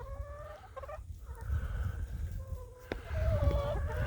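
Hungry chickens cluck and squawk steadily by a pasture water setup, several birds calling close by over a low rumbling outdoor background.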